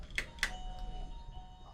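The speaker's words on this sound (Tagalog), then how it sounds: "Doorbell." Two quick electronic doorbell chimes ring out, followed by a faint lingering tone over quiet background noise.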